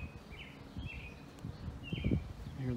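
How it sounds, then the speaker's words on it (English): Birds sing outdoors among big mature trees in a home's backyard by a covered patio: faint, thin chirps and short warbles scattered over soft rustling background noise. "Hear the birds singing."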